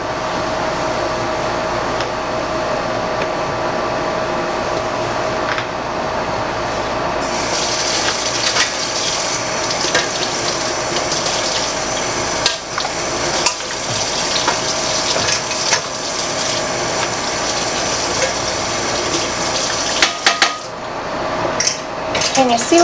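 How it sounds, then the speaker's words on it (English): Canning jars and racks are rinsed under a running kitchen tap, a steady gush of water with intermittent clinks of glass and metal close by and no talk. "I'm going to rinse my jars and my racks off."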